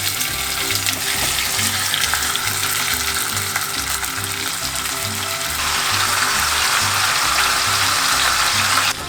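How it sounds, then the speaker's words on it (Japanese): Meat sears in oil in a pot for tacos, giving a loud, steady sizzle and crackle that continues without a break. A low rhythmic bubbling churns underneath. "オイルを敷いた鍋で軽く焼き目をつけていく。"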